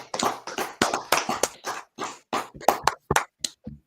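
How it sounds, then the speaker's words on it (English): Sharp, rhythmic hand claps from a small gathering at a street preaching event, close and fairly loud, falling into an uneven beat of repeated claps with short gaps between them. "Clap it up."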